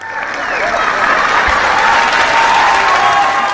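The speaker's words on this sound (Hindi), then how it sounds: "round of applause Raju sir के लिए, एक स्टैंडिंग ओवेशन हो जाए" An audience applauds comedian Raju Srivastava at a live comedy show, a loud, sustained wall of clapping from a large crowd that swells over the first half-second and holds steady.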